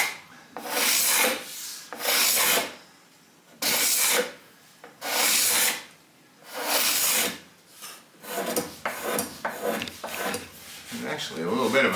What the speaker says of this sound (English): I would really like to try and get the lion's share of the protruding glue off so it's not gumming up the